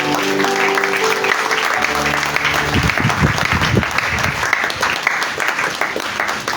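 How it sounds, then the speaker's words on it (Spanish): Spanish-speaking church congregation applauding in praise to the Lord during a sermon, loud sustained clapping throughout, with a sustained musical tone under the start before the applause takes over. "Denle un aplauso al Señor."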